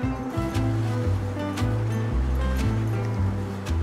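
Waves wash and surge against a British beach under gusty wind, with a low, uneven roar and occasional splashes.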